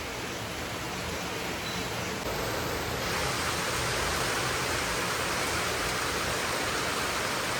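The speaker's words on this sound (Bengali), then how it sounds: "বৃষ্টি শুরু" Steady, dense hiss of rain falling, even and continuous throughout, growing slightly heavier partway through, with no voices.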